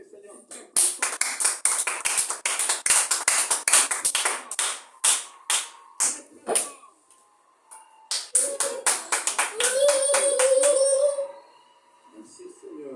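A church congregation claps loudly and rhythmically to acclaim the Lord, the applause stopping briefly and then resuming with a swell of cheering voices before fading out.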